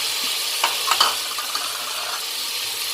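Chopped tomatoes hit garlic already sautéing in the pan, giving a steady broadband sizzle with a few brief stirring scrapes early on and no talking.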